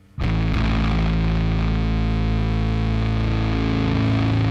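Bass played through a Darkglass Aggressively Distorting Advanced Machine on an extreme fuzzy setting: one loud, thick, saturated sustained note starts abruptly and rings out with dense buzzing grit for several seconds, alone, without voices.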